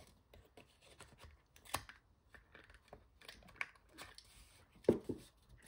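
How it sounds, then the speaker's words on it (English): A corner rounder punch snips the corners of a paper folio folder, giving a few sharp close clicks and crunches scattered among quiet handling rustles, with one louder punch near the end. "I'm just going to corner around these two corners."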